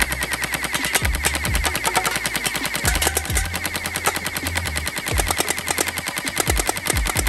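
A mini AK47 gel blaster fires full auto at a row of cans, giving a dense, rapid stream of sharp mechanical shots in long sustained bursts, loud and close, with occasional heavier thuds of pellets striking targets.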